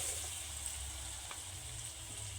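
Chopped onion going into ginger-garlic paste frying in a pan for a jackfruit curry, giving a steady, even sizzle close by with no voices.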